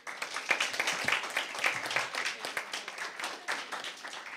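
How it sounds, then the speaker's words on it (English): Applause from a debate audience for both competing school teams at a 2024 debate round, a steady dense crackle of many hands clapping throughout. "Another round of applause for both of our teams"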